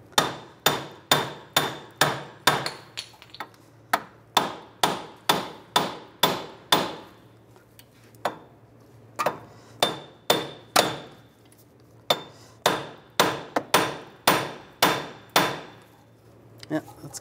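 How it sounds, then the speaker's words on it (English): Rapid runs of sharp metallic hammer blows tapping out a rear wheel hub on a 2003-2008 Infiniti FX35, in bursts separated by short pauses, close and loud, about three dozen strikes in all, no voices. "You can try using a hammer."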